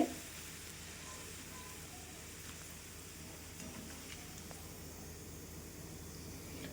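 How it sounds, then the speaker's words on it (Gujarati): Steady, even sizzling of rice flour sev frying in hot oil, a continuous crackling hiss throughout with no talking. "હવે તેમાં આપણે સેવ એડ કરી દઈશું અને મસ્ત રીતે આપણે સેવને તળી લેશું"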